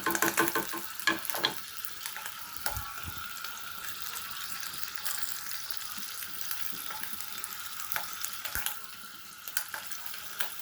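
Salad ingredients frying in hot oil give a continuous close sizzle, with occasional clinks and stirring knocks on the pan over the whole stretch, and no voices.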